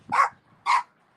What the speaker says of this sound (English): it sounds like a little chihuahua